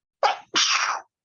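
A single close, loud human sneeze indoors, a short sharp intake followed by an explosive burst, then silence.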